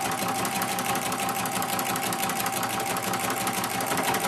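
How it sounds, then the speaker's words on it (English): A sewing machine runs steadily, stitching the binding of a quilted placemat with a fast, even mechanical whir and needle rattle, close and continuous without pause. "sew all the way down."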